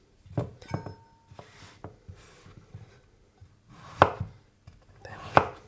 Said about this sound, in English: It does tend to stick when chopping potatoes.